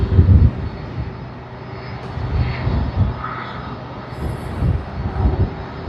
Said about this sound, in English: How many of you all love the sound of the engines of an Airbus